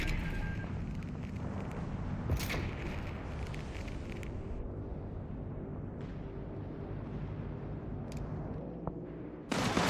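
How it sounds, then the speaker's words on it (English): Indirect artillery fire in the Company of Heroes 3 video game gives a low, rumbling, continuous barrage with a few sharper distant blasts and one loud crack near the end. "Indirect fire! Right on top of us!"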